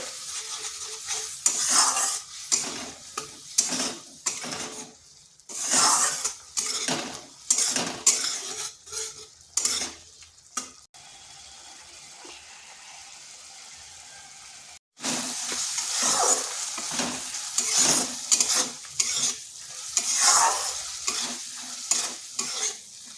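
Spice paste for a bitter gourd (korola) curry is sautéed and stirred in a pan. A spoon scrapes and clinks repeatedly over a steady close sizzle, and a short quieter lull comes before the stirring resumes.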